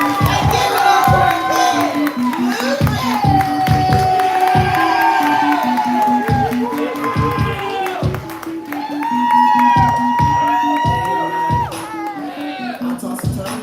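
A live audience at a spoken-word poetry show claps and cheers steadily, a lively crowd roar with a voice rising over it throughout.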